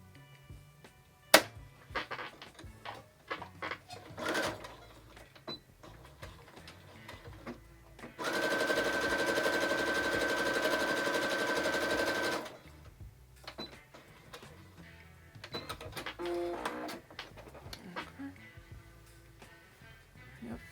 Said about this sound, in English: So what I'm gonna do is sew straight across there.